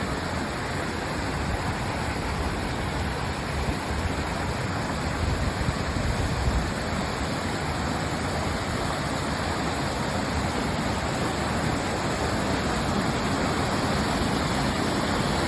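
Horse Trough Falls near Helen, Georgia, pours in a dense, steady broadband rush of falling water, close and unbroken throughout.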